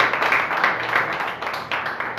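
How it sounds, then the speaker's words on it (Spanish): A church congregation applauds, a dense, steady wash of many hands clapping at moderate loudness, with no voices over it. "Den un aplauso grande al Señor."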